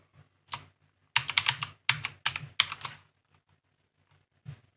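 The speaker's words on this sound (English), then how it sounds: "Let's see if I can type Amazon in here." Bursts of typing on a computer keyboard, close and fairly crisp, in three or four quick clusters of keystrokes separated by short pauses, with no talking over it.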